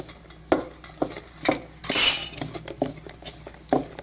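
Mixed dal dosa batter stirred together in a bowl with ground green chilli paste, heard as a series of close clinks and scrapes of a spoon against the bowl, with one brief wetter swish midway.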